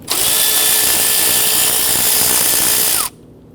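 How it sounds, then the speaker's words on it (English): A power tool whirs loudly and steadily up close for about three seconds, loosening and removing 10mm bolts from brackets and sensors on a 2011-2015 Kia Sorento engine, then cuts off abruptly. "I'm going to go ahead, loosen and remove these"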